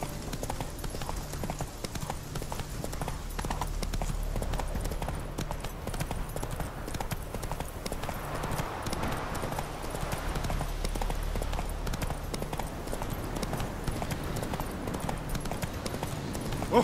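Roach, a horse in The Witcher 3, gallops with steady, rapid clip-clop hoofbeats that run close and continuous throughout, over a faint game backdrop with no talk.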